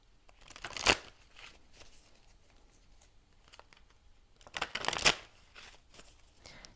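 Tarot cards are shuffled in two short, crisp riffling bursts a few seconds apart, with quiet card handling between them, heard close and alone with no talk.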